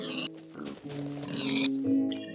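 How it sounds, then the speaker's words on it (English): Pigs oinking in Minecraft, a few short grunting calls close by amid game music and ambient tones, with no talking over them. "Oh, pigs!"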